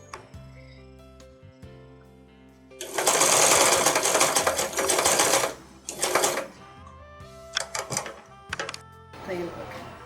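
A sewing machine stitches elastic into a homemade cloth face mask, running in a loud close burst of about three seconds, then shorter stops and starts, with the motor's hum showing through.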